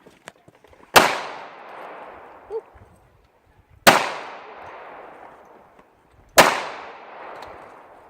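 Three sharp gunshots crack outdoors in the woods, evenly spaced a few seconds apart, each loud and close with a long reverberant tail fading into the trees; a brief faint sound falls between the first two.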